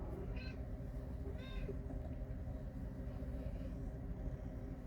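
A cat meows twice in short, fairly faint calls over a steady low rumble of background noise, with no talk in between.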